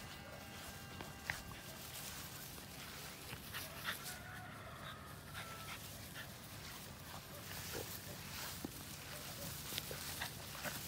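French bulldogs in a garden in the morning, faint snuffling and small whimpers and yips scattered over a quiet outdoor background.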